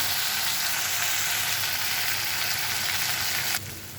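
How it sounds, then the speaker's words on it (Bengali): Spice paste with turmeric and Kashmiri chili powder being fried in a pan for a stuffed pointed gourd dish, giving a loud, steady sizzle that drops off sharply near the end. "এগুলোকে ভালো করে একবার কষিয়ে নিই"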